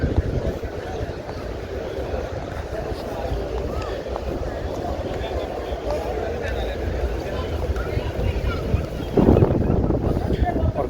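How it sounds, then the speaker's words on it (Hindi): Strong cold wind gusting outdoors at a crowded mosque courtyard, a loud continuous rumble of microphone buffeting that swells near the end. "ठंडी हवाएं चल रही हैं बहुत तेज़"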